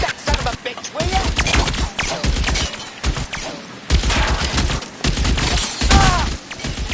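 Gunfire in the video game L.A. Noire comes in bursts of sharp, close shots with short gaps between volleys, some ringing echoes trailing the louder cracks.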